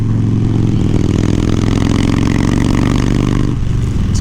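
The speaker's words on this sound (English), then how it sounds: "I like your bike. BMW S1000RR." A BMW S1000RR motorcycle engine revs up close and loud, a harsh rising rasp that holds steady, then drops back toward idle near the end.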